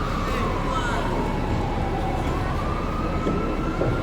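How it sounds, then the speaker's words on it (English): Emergency vehicle sirens wailing through the Tenderloin district of San Francisco at night, a steady rising-and-falling tone over dense street noise and traffic rumble, with voices faintly mixed in. "The first thing I see heading towards Tenderloin is sirens."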